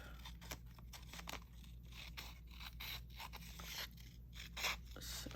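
Scissors cutting vintage-style paper for a junk journal page, quiet crisp snips and scraping in a steady rhythm, close up and faint over low background hum.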